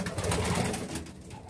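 A pigeon coos briefly inside a loft, a soft low call mixed with rustling and broad noise close to the listener.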